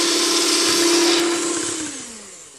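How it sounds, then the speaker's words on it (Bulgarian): An electric mixer beats chocolate muffin batter with sugar, a steady loud motor whine with whirring beaters that slowly winds down toward the end, with no talking. "но сега ще продължа с миксер"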